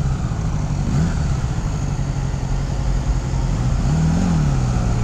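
A 1983 Honda Goldwing GL1200 motorcycle engine runs steadily and loud up close, a continuous low rumble with slight rises in revs.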